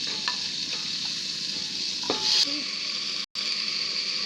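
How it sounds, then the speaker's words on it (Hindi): A masala of tomato, green chili, peas and onion sizzles steadily in a pan. A few light clinks and scrapes of stirring sound over the frying, and the sizzle cuts out for a moment near the end. "मसाला हमारा पक रहा है।"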